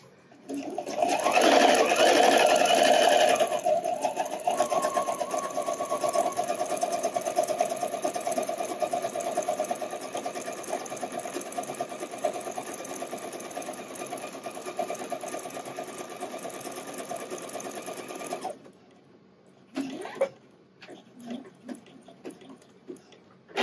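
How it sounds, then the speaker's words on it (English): Sewing machine stitching elastic onto a bra band, a steady fast whirring run that goes on for about eighteen seconds before stopping, followed by a few short bursts. "we're done sewing the band elastic"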